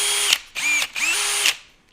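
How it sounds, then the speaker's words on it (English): A power drill whirs in three bursts of about half a second each, with a brief spin-down between them. It is loud and close, with no voices. "why don't you run that power drill again for a moment"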